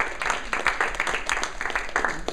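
Applause from an audience at a policy capstone presentation event, a dense, fairly distant wash of clapping that holds steady for a couple of seconds with no voices over it.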